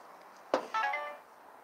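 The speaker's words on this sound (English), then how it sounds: "I need to turn down the volume of my other phone." Another phone gives a short alert, a soft click followed by a brief tonal chime that fades away in a quiet room.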